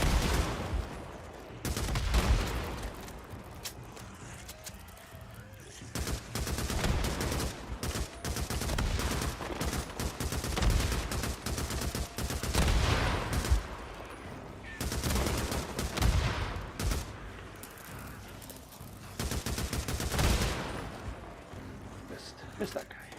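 Sustained gunfire from the Days Gone zombie game comes in dense, rapid bursts with short lulls, loud and close, alongside a person talking throughout.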